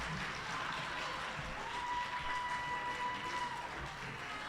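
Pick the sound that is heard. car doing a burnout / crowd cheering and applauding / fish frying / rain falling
crowd cheering and applauding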